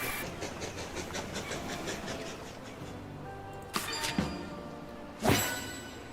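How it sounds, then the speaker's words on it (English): Heavy freight train from the game Station to Station rolling steadily with a continuous rumbling hiss, joined near the end by a few louder clanking bursts. "heavy freight train rolling"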